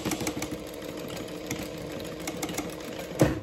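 Sewing machine back-stitching a zipper seam with a half-inch seam allowance, a steady rapid mechanical whir running throughout, ending in a brief clunk, with no talking.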